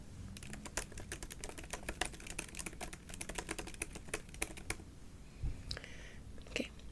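Computer keyboard typing for a soft-spoken ASMR session: a steady quiet run of crisp key clicks for about five seconds, then a few scattered taps, close and alone.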